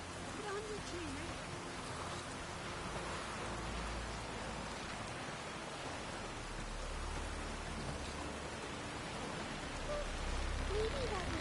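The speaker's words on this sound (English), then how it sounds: "It's raining." Steady rain in The Witcher 3: Wild Hunt, a constant hiss of falling drops with a low rumble underneath, continuing throughout with faint voices in the background.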